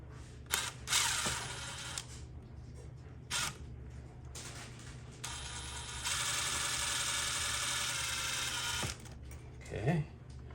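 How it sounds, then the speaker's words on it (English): Longer screws being driven into an electrical outlet during a receptacle replacement, heard as several short bursts of whirring from a driver separated by pauses, close by with a person speaking nearby. "So I'm going to be installing these longer screws here."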